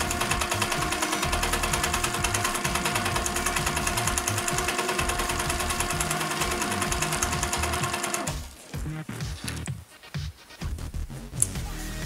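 A sewing machine runs continuously, stitching loops in bobbin work to test thread tension, its rapid, even mechanical chatter loud and close for about eight seconds before stopping, then a few faint handling sounds.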